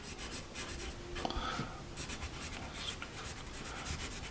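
A Bazic 2B graphite pencil writing on paper with a slightly scratchy, faintly waxy texture, close-up continuous scratching strokes with small taps, no talking.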